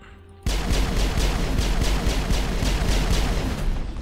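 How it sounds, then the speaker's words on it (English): Rapid gunfire in the video game Mass Effect, a steady rhythm of loud repeating shots that starts abruptly and carries on in an even, pounding stream. "Someone's shooting. Whoa, that's a rocket."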